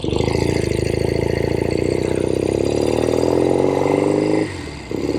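A rare 1970 Royal Enfield Interceptor 750 Mk II motorcycle being ridden, its engine droning steadily and climbing in pitch under acceleration, loud and close, then dropping briefly near the end as the rider shifts gears.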